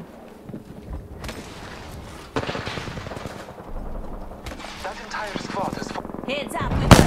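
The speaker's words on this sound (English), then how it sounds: "Opening fire on the enemy." In the Apex Legends video game, automatic gunfire crackles in rapid bursts over game sound effects and a voice speaking. The shooting gets louder and denser partway through and ends with a sharp loud shot.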